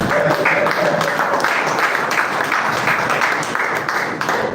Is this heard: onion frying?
no